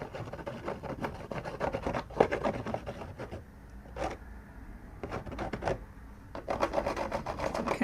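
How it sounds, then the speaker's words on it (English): A palette knife scratches and drags through paint on canvas in a run of close, raspy rubbing strokes. The strokes come in uneven bursts with brief pauses between them. "I'm using a palette knife. I'm trying to use all my different tools, scratching."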